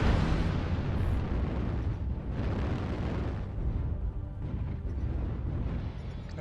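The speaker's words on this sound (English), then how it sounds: "Airstrike." Airstrike explosions in a video game roll on continuously, a heavy, rumbling barrage of overlapping booms that stays loud and dense throughout.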